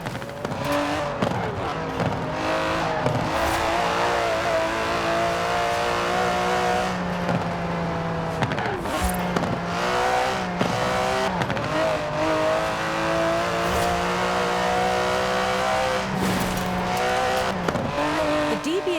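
An Aston Martin DB11 with a 5.2-litre twin-turbo V12 races in Forza Horizon 4, its engine note rising and falling through repeated revs and gear changes, with occasional tire squeals over a constant roar.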